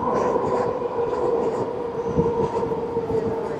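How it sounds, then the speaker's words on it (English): A train rolls by nearby, loud and rumbling with a steady metallic drone and rhythmic wheel clatter throughout. "Train is noisy, right? Yeah, it's loud as shit."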